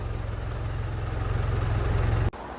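A 2012 160-horsepower 2.5-ton Mighty refrigerated truck with a dual-cooling freezer unit, its engine and refrigeration unit idling in a steady low throbbing hum that cuts off abruptly near the end.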